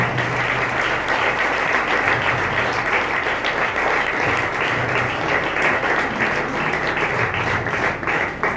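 A crowd at a pastors' association monthly meeting in Jalandhar claps loudly and continuously, dense steady applause sustained throughout with a faint murmur underneath.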